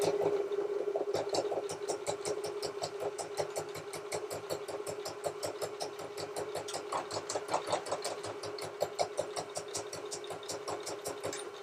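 A sewing machine runs steadily across a zippered tote bag, sewing a straight line to set the bag's depth, its needle thumping in a fast, even rhythm for about twelve seconds, close and with no talking.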